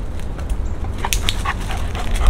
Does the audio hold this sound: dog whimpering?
yes